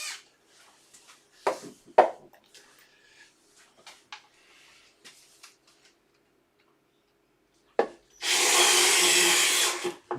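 A power drill drives screws into a wooden bedside cabinet in one loud, steady burst of about two seconds near the end, after a stretch of scattered light taps and wooden clicks.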